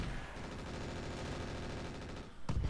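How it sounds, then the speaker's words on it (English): Rapid, continuous automatic gunfire rattles in the video game Roguepoint during a heavy firefight, a dense steady stream of shots that stays fairly quiet and ends with a sharper, louder burst. "I'm under heavy fire."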